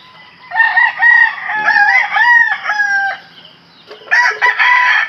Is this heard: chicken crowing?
yes